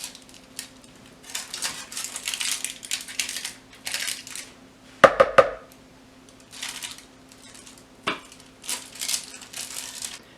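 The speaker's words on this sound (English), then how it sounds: "you can really scrape the skin, scrape down really closely to the skin and get all that beautiful pulp out of the pumpkin" A utensil scrapes roasted pumpkin pulp away from the skin in scattered bursts of rough rasping, with a few sharp clinks against a bowl or dish partway through, close and without talk.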